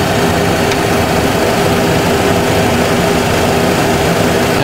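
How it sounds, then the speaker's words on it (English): A jet airliner engine winds down after its start lever is cut off, heard as a steady, loud broadband roar and hum without a clear fall in pitch in this short span, with no talk. "Engine is pulling down."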